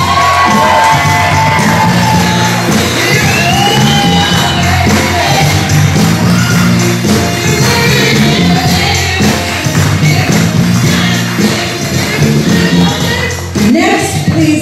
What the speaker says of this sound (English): please give applause for Robbie Ugliani and Ellie Maffey.